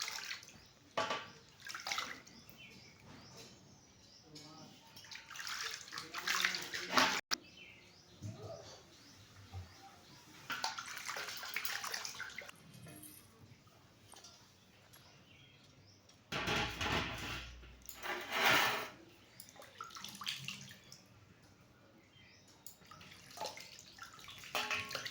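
Water splashing and pouring while cows are bathed outdoors, irregular bursts of splashes with quieter gaps, birds cooing in the background.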